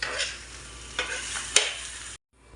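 Dried fish (shutki) frying in a pan while being stirred and mixed, a steady sizzle broken by a few sharp scraping strokes, ending in a brief silence.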